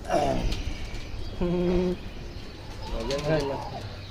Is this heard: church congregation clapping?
no